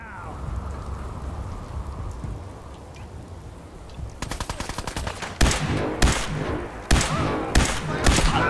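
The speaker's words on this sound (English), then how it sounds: "What the fuck is shooting me?" Gunfire aimed at the player in Fallout 4 on Xbox Series X: after a stretch of rain-like hiss, bursts of rapid shots rattle out, then several loud, separate blasts follow at irregular intervals.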